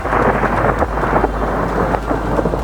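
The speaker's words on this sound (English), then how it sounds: "It's raining. There's lightning and thunder." Heavy rain and rumbling thunder during a storm at a snowy camping spot, a loud, steady wash of rain with deep rolling thunder underneath, close and continuous with no talk.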